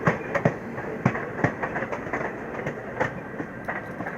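A Humsafar Express train picking up speed on the rails, heard from on board as a rhythmic clickety-clack of wheels over rail joints, with steady rumble underneath and no voices.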